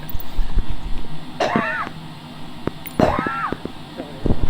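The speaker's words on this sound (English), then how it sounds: "Cough." Two harsh coughs aboard a Citation Longitude aircraft, a couple of seconds apart, stand out over quiet room noise and a faint mechanical hum.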